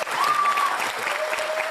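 An audience breaks into a burst of clapping that fills the whole moment, with a sustained whistle cutting through the applause.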